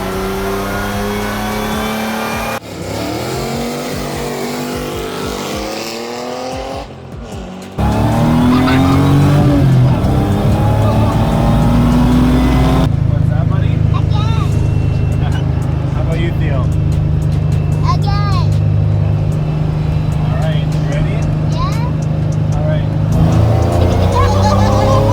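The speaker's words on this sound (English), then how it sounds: "3800 into a Chevette, mated to a Borg Warner T5 5-speed manual transmission" A Chevrolet Chevette fitted with a GM 3800 V6 and a Borg Warner T5 five-speed manual gearbox drives hard, its engine revving and shifting loudly up through gears, with someone talking over parts of it.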